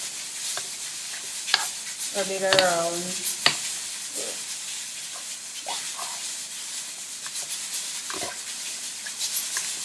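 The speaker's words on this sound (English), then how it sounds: "You can hear the pot sizzling in the background with the peas." A pot of Jamaican rice and peas sizzles steadily in the background, a constant hiss with scattered clinks and scraping, while a person speaks briefly nearby.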